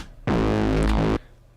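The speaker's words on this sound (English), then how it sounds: "Because of the distortion, and especially because of that tube amp" A single sustained FM8 synth reese bass note, thick and buzzing with heavy tube amp distortion, starts abruptly and cuts off after about a second.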